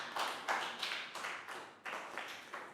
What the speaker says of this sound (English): Big round of applause for Nadia